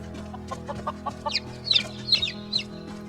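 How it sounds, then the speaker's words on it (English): Chickens in the video game Skyrim cluck in short, scattered bursts over a low steady hum, a few higher squawks mixed in, fairly faint. "You can definitely hear them clucking too."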